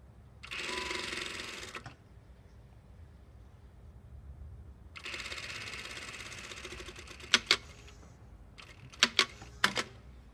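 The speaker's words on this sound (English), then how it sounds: "make sure that you don't stretch the bias as you're sewing it in place" A sewing machine runs in two bursts, stitching bias binding onto a fabric seam, with a steady rapid whir each time and a few sharp clicks near the end, fairly quiet and with no talking.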